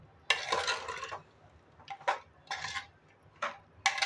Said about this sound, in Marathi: हे पण आपल्याला जरा मिक्स करून घ्यायचं आहे